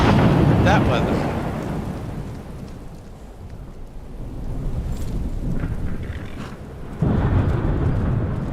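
Thunderstorm weather in the video game Skyrim, with steady rain hiss and rolling thunder rumbles that swell, ease off and surge again loudly, a voice speaking briefly over it.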